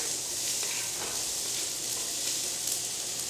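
Chillies, onion, ginger, lemongrass and garlic stir-frying in a wok for a prawn curry, giving a steady, moderate sizzle and hiss with no voices.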